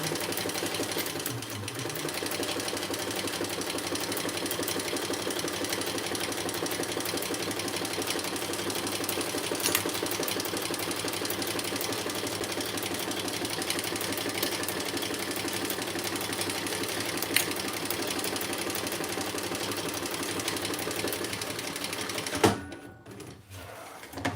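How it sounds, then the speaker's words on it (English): A sewing machine bastes steadily around the vinyl edges of a crossbody bag, a continuous even mechanical whir holding for about twenty-two seconds before stopping abruptly near the end. "And then I'll just baste around the edges here."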